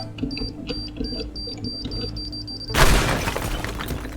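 A bomb goes off in the video game Teardown: after a quiet stretch of ambient hum with repeated faint beeps comes a sudden, loud, booming blast followed by a rumbling, crumbling tail of debris.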